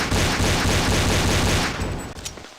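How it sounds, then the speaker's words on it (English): Browning High Power pistol firing in an unreleased Stalker video game build, a loud rapid string of shots in steady rhythm for about two seconds before trailing off. "So the first one here is the Browning High Power."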